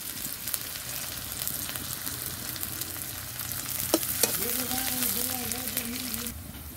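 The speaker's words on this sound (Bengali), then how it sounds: "পেঁয়াজটা ভালো করে লাল লাল করে ভেজে নিব।" Onions frying in a pan for a catfish curry sizzle in a constant soft hiss, with a couple of sharp stirring clicks and a voice speaking briefly over the cooking.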